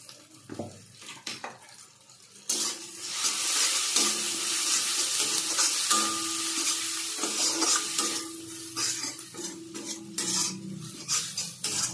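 Chili powder being stirred into masala frying in a pan for fish curry: a steady loud sizzle with continuous scraping of a spoon against the pan, starting after a few quieter clinks and running without pause.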